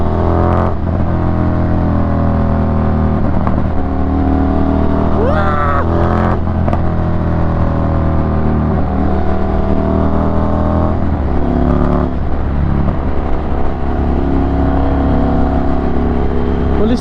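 An Indian motorcycle's engine drones and revs steadily throughout a ride, loud and close, with rising rev sweeps and road rumble and no pause in the motor's roar.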